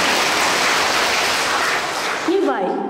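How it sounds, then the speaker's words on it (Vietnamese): Listeners, many of them children, at a Buddhist nun's dharma talk give a dense, continuous round of applause that stops abruptly near the end, when a voice begins. "Cho một tràng pháo tay nữa."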